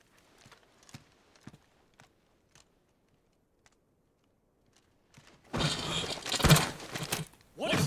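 A steed's hooves clop on a hard surface, a few sparse, faint hoofbeats at first, then a loud dense burst of clattering near the end.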